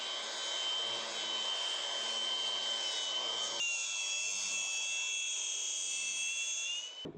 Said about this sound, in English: after sanding this one for a little bit of time now